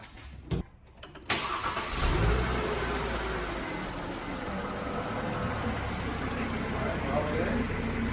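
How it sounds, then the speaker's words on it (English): A 2010 Mercedes C300 W204 with the M272 V6 cranks briefly and catches, then settles into a steady, close idle that runs on unbroken to the end after a few faint clicks at the start. "we're just gonna start up the car real quick here and see if it all works"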